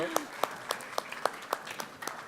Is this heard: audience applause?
yes